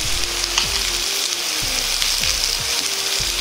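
Pork and bean sprouts steam-frying in lard in a pan, a constant close sizzle with a few soft scraping clicks.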